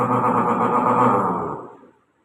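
A voice imitates a Hero Super Splendor motorcycle with a short steady engine-like drone lasting under two seconds before trailing off, with a slight echo and no other sound.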